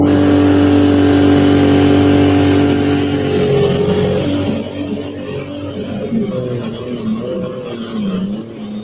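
A turbocharged diesel garden tractor strains at a pulling event, its loud engine holding a steady high drone before the pitch sags and wavers as revs drop under load.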